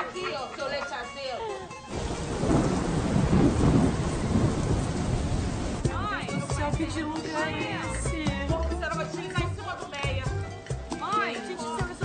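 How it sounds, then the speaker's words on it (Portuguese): Heavy rain pours with rolling thunder during a stormy scene, a dense loud hiss under speech and background sounds that continue throughout. "deixa pra amanhã, tá chovendo demais"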